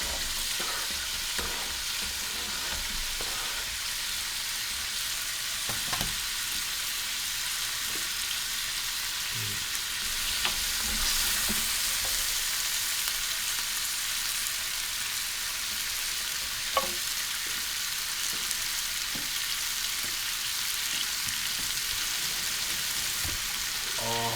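Onion and chorizo fry together in a pan with a constant, even sizzle and occasional stirring scrapes, close and fairly loud, with no voices.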